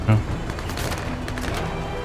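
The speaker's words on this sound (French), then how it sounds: "Tire avec le canon automatique, précision correcte, pénétration dans le mur." Autocannon fire in the video game Menace, a short burst of loud, dense shots with a booming onset, carrying on as a rough roar through the clip, with game sounds and some voice in the mix.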